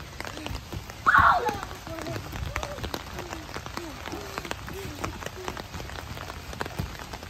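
Rain pattering on a trampoline outdoors, a steady crackle of drops on the mat with a brief louder splash early on and voices talking faintly in the background.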